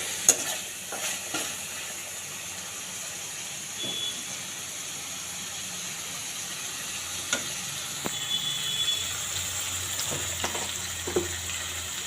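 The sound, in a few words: meat frying lightly in a pan on low heat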